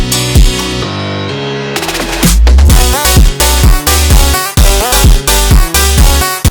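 A phonk beat in the style of Leva Leva plays without vocals, with heavy punchy kicks, snappy drums and drum fills over a dense melodic backing that drops in harder after a brief sparse intro.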